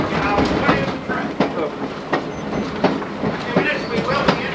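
A train rolls along the rails with a loud, rhythmic clickety-clack of wheels over joints, heard from on board a tourist ride in Van Buren, Arkansas.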